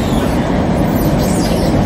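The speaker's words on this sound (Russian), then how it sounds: "Мы в московском метро." A Moscow metro station is filled with a loud, dense rumble of a train, a brief, steady roar with a faint high squeal, close by and heard without speech.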